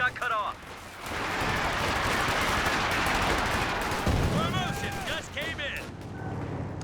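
Machine gun fire and other gunshots rattle in the Company of Heroes 2 strategy game, a dense sustained burst of battle noise with a steady roar underneath, while a voice comments over it.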